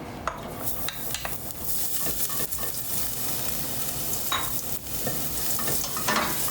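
Garlic and pepper frying in hot organic sunflower oil in a pan, a continuous sizzle with scattered sharp clicks and scrapes of stirring and utensils against the pan.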